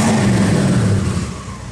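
A car engine revs as the accelerator is pressed during ECU tuning in a workshop, a steady loud low drone that holds for most of the stretch before easing slightly toward the end.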